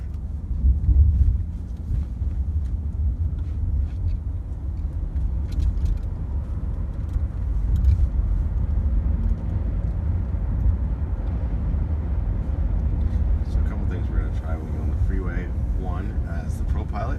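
A 2018 Nissan LEAF electric car cruising on a freeway fills the cabin with a steady low road rumble and wind roar, while voices talk faintly over it.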